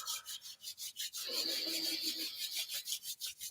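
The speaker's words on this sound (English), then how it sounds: "rub your palms together" Palms rubbed briskly together during a Kundalini yoga session, a close, rhythmic rasping swish repeating several times per second, steady and alone with no voices.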